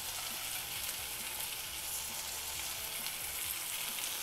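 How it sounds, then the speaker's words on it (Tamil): Potato, radish, carrot and green peas sauté in a pan with a steady, even sizzle and hiss, faint and unbroken, with no voices. "இந்த காயெல்லாம் வந்து நல்லா வதங்கட்டும்"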